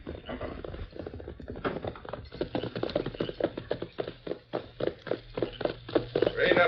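Horses' hooves clip-clopping in a 1940s Western radio drama, a steady walking rhythm of repeated sharp knocks that grows louder and closer over several seconds, with a low hum running beneath.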